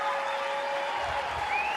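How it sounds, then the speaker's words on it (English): Crowd at an NCAA softball game between Florida State and Jacksonville State giving a standing ovation, with sustained, steady applause and cheering filling the stadium, heard under a continuous tonal hum. "Wow, a standing ovation."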